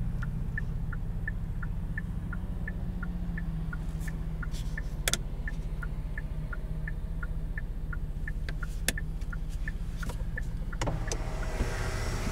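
A 2019 Genesis G70 3.3T with its steady low road and engine hum from inside the cabin on a twisty back road, a regular faint ticking like a turn signal and a few sharp clicks and knocks over it, no talk.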